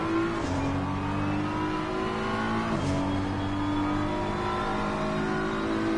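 GT4 race cars, including a BMW and an Aston Martin, in a sim racing game: a steady engine drone rising in pitch through the gears, with two brief drops at gear changes, loud and continuous with no talking.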